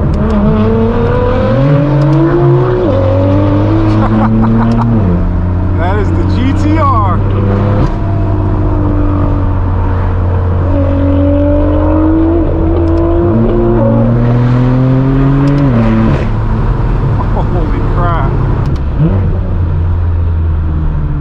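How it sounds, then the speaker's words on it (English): Engines rumble loudly at a large nighttime BMW car meet in Los Angeles as several cars fire up, with a deep steady drone and repeated rising revs that swell and drop, continuous throughout. "everybody's starting these motors up and get on the road"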